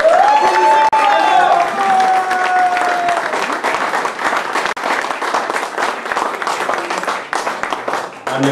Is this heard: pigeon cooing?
no